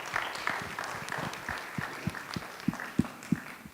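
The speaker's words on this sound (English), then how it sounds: "I want to give yourselves a round of applause for that" An audience at a summit event applauds together, a steady wash of many hands clapping with a few louder close claps standing out.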